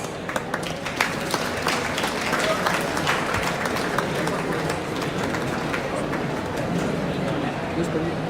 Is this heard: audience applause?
yes